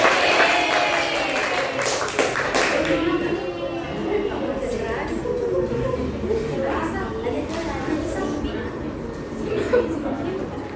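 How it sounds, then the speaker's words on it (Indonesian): Classroom audience clapping in a set rhythmic pattern, a burst of group claps at the start that gives way to chatter and talking voices, with scattered claps underneath. "Tepuk 3 kali, berkali-kali, tepuk 2 kali."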